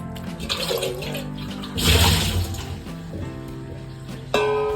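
Nannari roots being washed in water, with splashing, sloshing and running water that swells in the middle and ends in a brighter pouring burst, close and moderately loud.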